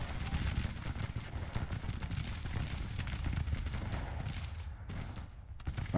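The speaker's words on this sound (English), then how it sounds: "Firing on 1st Brigade here." Musket volley fire in the Grand Tactician Civil War strategy game, a continuous crackle of massed rifle shots and low battlefield rumble, fairly distant and steady, briefly easing near the end.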